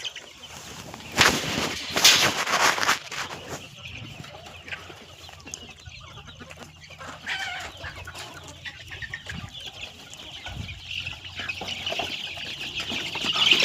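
Free-range desi chickens with chicks of two weeks to two months old clucking and calling around a farm, with loud bursts early on and then softer scattered clucks and chirps.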